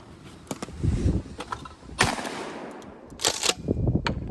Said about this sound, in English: You just double tap as you shoot, and it helps you with the muscle memory.